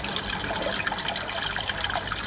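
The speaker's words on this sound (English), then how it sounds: "I've got the central unit, water flowing around the outside" Water flows and trickles steadily through a home-made koi pond filter system, running around the outside of the central unit toward a bio chamber; a continuous close, bright splashing wash with no voices.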